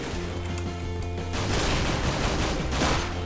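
Pistol fire from a Five-Seven in Counter-Strike: Global Offensive rattles in a dense burst of shots over game noise, loudest in the second half, with no talking.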